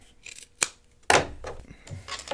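Scissors snip and trim fabric for a zipper pouch: a few short, crisp cuts close to the microphone, the loudest near the middle, with light rustling between them and no speech.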